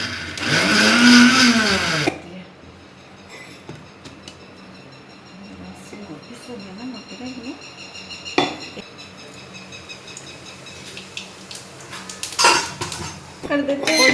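An electric grinder whirs loudly for about two seconds while grinding garlic for Rajasthani garlic chutney, then stops, leaving clinks of dishes and utensils and soft voices in a home kitchen.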